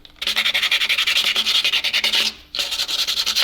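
A drill bit turning slowly through a metal part for an old ZIL crane truck gives a close, rhythmic grinding pulse, pausing briefly before resuming.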